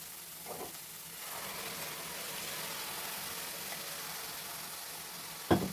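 Cooked green gram tipped into a pan with a steady, quiet sizzle, loosening into soft stirring; a sharp clatter near the end, with no one speaking.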